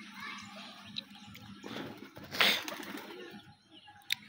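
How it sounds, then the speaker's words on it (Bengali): Pet pigeons, including Sirazi and yellow Mumbai breeds, give soft low coos close by, with a brief burst of wing flapping or fluttering midway and a sharp click near the end. "এই যে আমার একটা কবুতর"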